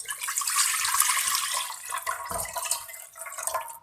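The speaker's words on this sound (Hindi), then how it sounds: "अब हम एक डेगची में चिकन की यखनी डाल देंगे।" Chicken broth pours into a cooking pot with a close, steady splashing gush of liquid lasting a few seconds before tapering off.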